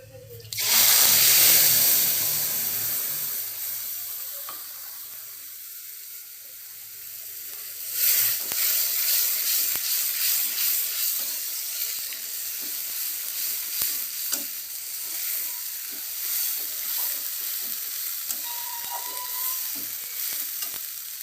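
Ground spice paste hits hot oil in a pan with a loud burst of sizzling, then settles into a steady frying hiss with stirring strokes, close and with no talk.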